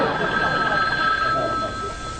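An old-fashioned telephone bell rings in a household scene from a sitcom, a loud sustained metallic ring under a short stretch of background sound.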